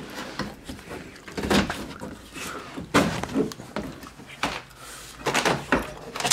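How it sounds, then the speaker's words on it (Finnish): Rubber door seals are pulled off a BMW E30 Touring door, producing a series of irregular rubbery tugs, thumps and scrapes at close range, loud bursts separated by brief pauses. "oven tiivisteet tosta varovasti irti"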